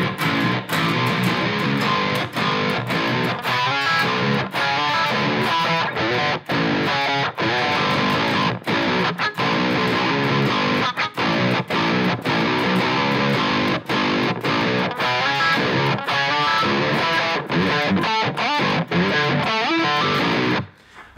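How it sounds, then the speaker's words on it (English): Heavily distorted electric guitar in drop G tuning plays a riff at a slowed tempo, dense and loud throughout, with chugging palm-muted notes broken by short rhythmic stops and no talking. "I'm gonna play that riff a bit slower."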